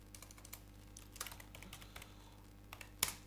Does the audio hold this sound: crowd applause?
no